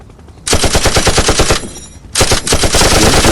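Rapid bursts of machine gun fire, loud and close, in two long volleys separated by a brief pause.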